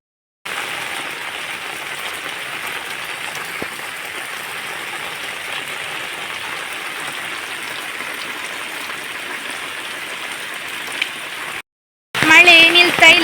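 Steady, continuous rain falls without a break, a dense even hiss that holds level for about eleven seconds before a brief gap and a louder burst at the end.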